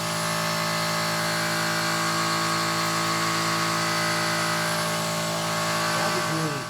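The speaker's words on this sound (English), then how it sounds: "Taking a rotary hammer and a chisel" A rotary hammer fitted with a chisel runs continuously to remove a dryer bearing seal, giving a loud, steady motorized drone with a buzzing rattle throughout and a faint voice near the end.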